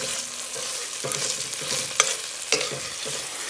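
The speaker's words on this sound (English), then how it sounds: "Continue stirring. I'm going to now add the sofrito." A pot being stirred as sofrito goes in for seasoned yellow rice and red beans, a close steady sizzle broken by several spoon scrapes and clinks against the pot.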